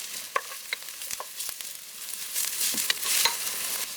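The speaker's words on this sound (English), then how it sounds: "5 pimento peppers sliced, half cup of chopped onions, and you're going to saute this for about 5 minutes" Sliced pimento peppers and chopped onions sauté in a pot with a light sizzle, punctuated by sharp scraping clicks of a spoon stirring close by.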